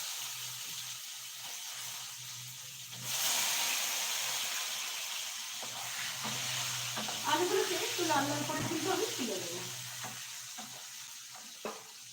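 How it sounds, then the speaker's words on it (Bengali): Potatoes for dim aloo soybean frying in oil, a hiss that swells suddenly and then settles into a steady sizzle with occasional stirring clicks, while a voice talks quietly partway through. "এবারে এর মধ্যে আমি আলুগুলোকে একটু ভেজে নিচ্ছি"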